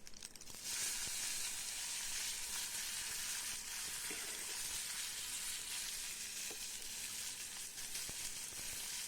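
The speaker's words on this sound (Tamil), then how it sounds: "வெங்காயம், கருவேப்பிலை, கொத்தமல்லி போட்டு கொஞ்சம் வதக்குவோம்." Onion, curry leaves and coriander sautéing in a pan with mustard seeds, fennel, fenugreek and cumin, giving a steady, close hissing sizzle that runs unbroken throughout.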